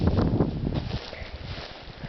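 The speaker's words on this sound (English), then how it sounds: "we got quite a brisk north wind blowing today" Brisk north wind buffets an outdoor microphone at a fall garden during an onion harvest, a steady low rumbling roar that is strongest at first and then eases into a softer, gusting buffet, with no voices.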